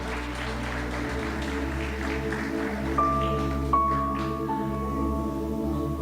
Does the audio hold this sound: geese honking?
no